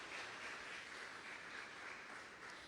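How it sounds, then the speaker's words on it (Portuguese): A church congregation applauds in praise, a faint, even patter of many hands clapping that holds steady from start to finish with no voices on top. "Aplauda ao Senhor."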